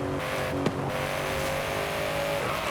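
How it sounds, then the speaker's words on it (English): A car engine in the video game Forza Horizon 5 holds a steady, sustained drone at fairly low volume. A short sharp click sounds near the start. "I can literally just sit here and listen to the sound of this fucking car engine all day."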